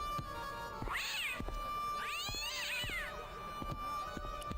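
Cat meowing in the PC adventure game Broken Sword: two drawn-out, wavering meows over a steady ambient hum with soft regular ticks, no talking.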